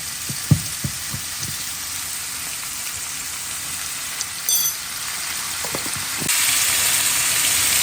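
Potatoes with onion and garlic fry in hot oil in a skillet, giving a steady close broadband sizzle with a few soft knocks early on and a brief brighter hiss near the end.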